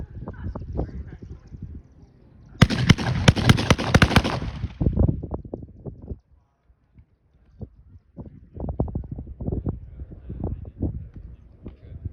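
A WWII-era automatic weapon that takes a 30-round magazine fires a short, sharp burst at a WWII weekend weapons demonstration at Fort Clinch, set outdoors among people talking before and after the shots.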